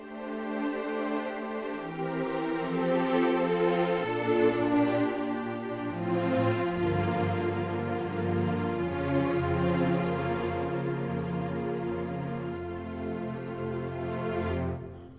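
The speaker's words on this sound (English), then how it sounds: "the full string sustained sounds like this" Sustained orchestral strings from a Kontakt sample patch play slow, layered chords that swell and shift smoothly, steady and fairly full, with no talking.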